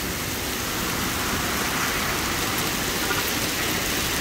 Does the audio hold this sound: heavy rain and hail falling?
yes